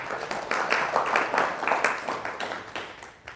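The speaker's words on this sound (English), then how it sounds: "Please give me a big clap." A small audience claps together in a brief burst of scattered applause, moderately loud and slightly roomy, fading out over a few seconds.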